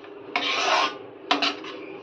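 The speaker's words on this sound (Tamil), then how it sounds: "நல்லா மிக்ஸ் பண்ணி விட்டுலாம்." Halwa being stirred with ghee in a pan, two bursts of scraping, rasping strokes of a spoon against the pan, close and clear with no talk.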